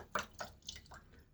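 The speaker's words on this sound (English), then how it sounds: "Shake out much of the water from the brush." A wet shaving brush is shaken out in several quick flicks, each giving a soft splashy burst of water drops, close and fairly quiet.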